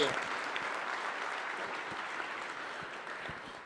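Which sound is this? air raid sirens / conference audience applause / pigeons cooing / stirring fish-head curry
conference audience applause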